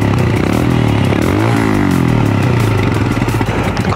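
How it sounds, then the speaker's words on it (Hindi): Royal Enfield Himalayan BS6 single-cylinder motorcycle engine running close by, a loud steady thumping with a brief rise and fall in revs midway. "ये जो बाइक है वो सिंगल सिलेंडर में काफ़ी अच्छा और स्टेबल साउंड आ रहा है।"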